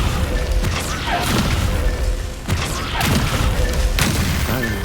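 In Hogwarts Legacy, the Descendo spell slams an enemy to the ground, heavy booming impacts and crashes landing about three times amid dense combat noise.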